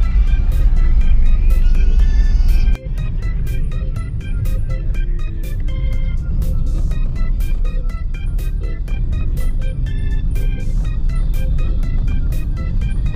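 Road traffic with cars and trucks on a congested Christmas-season road, a loud, continuous low rumble heard from inside a vehicle, with steady engine drone and scattered faint clicks and knocks throughout, no talking.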